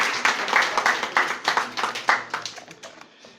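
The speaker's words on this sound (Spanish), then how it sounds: "vamos a recibirle con un aplauso" An audience at a talk claps to welcome a speaker, a burst of fairly close, distinct handclaps that thins out and fades to a few scattered claps by the end.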